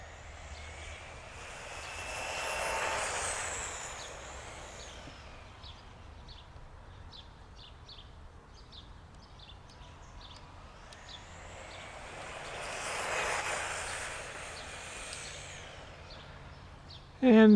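A WLtoys 144001 RC car fitted with an upgraded brushed motor, running on 2S, whines past at top speed twice, swelling from distant to close and fading away, with a sharp thump at the end.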